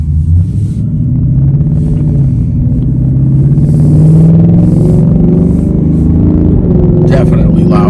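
A 2024 Ford Mustang GT with a Corsa Xtreme cat-back exhaust accelerates hard on the road, its deep exhaust rumble climbing steadily in pitch, loud and close throughout.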